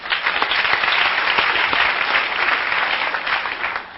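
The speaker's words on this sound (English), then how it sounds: "How many parents here by applause?" An audience at a recovery talk applauds, a dense, loud and sustained clapping from a large crowd that fills the whole stretch without interruption.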